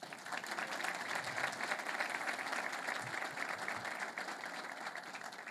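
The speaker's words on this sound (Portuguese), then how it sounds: "a quem eu peço uma salva de palmas" A conference audience at the Six Sigma Brasil congress gives sustained applause for an honoree. The dense, even clapping is heard at a distance and stays fairly faint.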